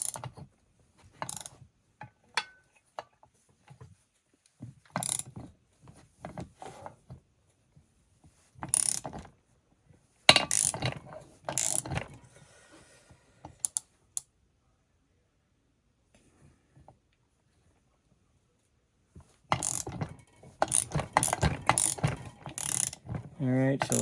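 Ratchet wrench cranking the crankshaft of a Stihl 044 Magnum chainsaw during a rebuild: close, dry clicking bursts in short irregular runs, separated by long quiet pauses and a few faint knocks.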